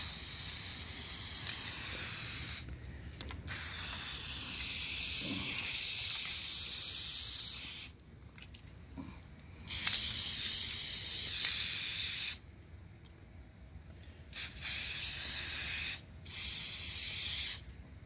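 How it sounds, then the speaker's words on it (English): A can of black spray paint hisses in several bursts, each a few seconds long with short pauses between them. It sounds close and steady and there is no talk. "I've got a can of black spray paint"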